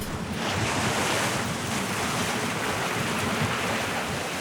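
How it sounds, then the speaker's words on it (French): Strong wind blowing over the sea near the Cyclades islands, a steady loud broadband roar mixed with surf and microphone buffeting, continuous with no voices. "Mais avec le vent qu'il y a, c'est pas la peine."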